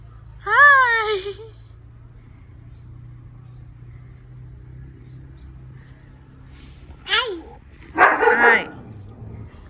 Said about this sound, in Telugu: డాగ్ అరుస్తుంది.